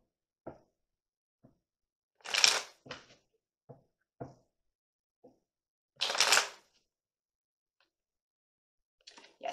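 Tarot cards being shuffled and drawn, with two short bursts of riffling separated by soft isolated taps and card placements in an otherwise quiet room.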